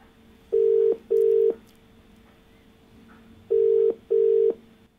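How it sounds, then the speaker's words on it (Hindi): A telephone line rings through to a caller on a Green TV farming call-in show. Two pairs of steady ringback tones, each a double ring, sound loud and clear over a quiet line hiss with pauses between. "आइए बात करते हैं अपने अगले कॉलर से, योगेश पटेल जी से"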